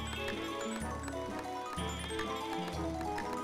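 Goat bleats in an osu! rhythm game beatmap come in rhythmic bursts within loud electronic music, repeating in a regular pattern.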